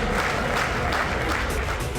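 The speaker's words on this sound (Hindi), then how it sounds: "सभी सांसद अपनी सीटों से खड़े हो गए और तालियों की गड़गड़ाहट के साथ उनका स्वागत किया" Members of parliament applaud Modi in a packed chamber, a thick continuous wash of clapping from many hands that holds steady throughout, with crowd murmur mixed in.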